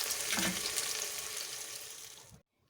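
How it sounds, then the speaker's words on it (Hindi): Sliced onions fry in a pan for a potato and spinach sabzi, a close, steady crackling sizzle that holds for over two seconds before cutting off sharply, with no voices. "प्याज को मैंने 2 मिनट तक फ्राई करना है।"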